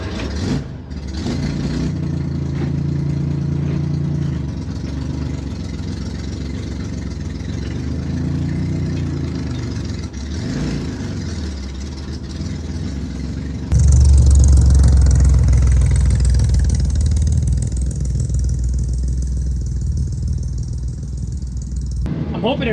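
A chop top Chevrolet Corvair's engine runs with a loud, rough exhaust lacking mufflers, idling unevenly, then growing louder and deeper as it moves off; a person talks over the engine at times.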